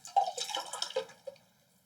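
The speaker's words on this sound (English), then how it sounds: "is just spilling water on his pants" Water spills and drips in a few quick splashy bursts close by, trailing off into quiet, with no talking.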